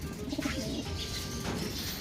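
Racing pigeons cooing softly in a low, murmuring chorus, with faint chirps over a steady background.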